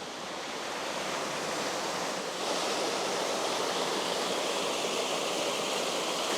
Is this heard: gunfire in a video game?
no